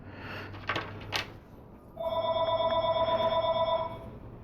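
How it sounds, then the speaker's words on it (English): A cell phone rings with a sustained electronic tone that holds steady for about two seconds, preceded by a few clicks and taps nearby. "Sorry, my phone's ringing."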